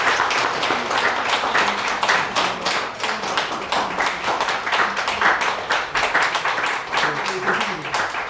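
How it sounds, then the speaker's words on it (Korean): Audience in a church thanksgiving service clapping steadily and enthusiastically, a dense, continuous round of applause throughout with faint voices mixed in. "우리 뜨겁게 박수 해주시기 바랍니다."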